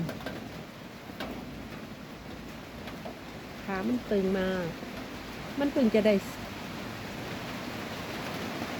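Steady rain falling outdoors, a constant hiss of even noise throughout, with someone talking briefly over it in the middle.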